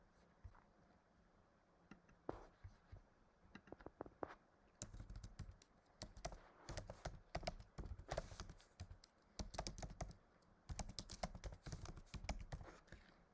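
Rapid typing on a computer keyboard at close range, irregular bursts of key taps with short pauses, entering a WordPress website address into a browser; no voices.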